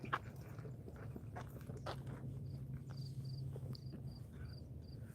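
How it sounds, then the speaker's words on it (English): Crickets chirp outdoors on a summer morning: faint, repeated high-pitched pulses in short bursts over a steady low background hum, with a few soft rustling sounds. "Oh, those are crickets, that's what I hear."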